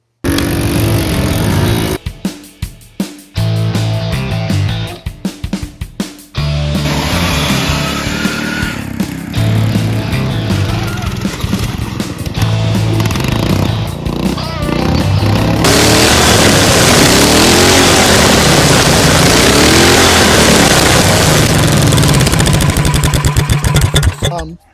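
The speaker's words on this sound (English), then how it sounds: "Put some starting fluid in it, and it does start, but it needs a carburetor clean." A 7hp Subaru Robin engine off a Ryobi pressure washer, needing a carburetor clean and started with starting fluid, runs loud and close with a rough, uneven idle, stuttering and cutting out early before settling into a steady roar.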